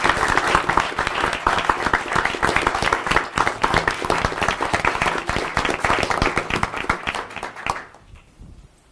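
Audience applause at a county board of directors meeting, sustained clapping from a room of people for about eight seconds, then quickly dying away to quiet.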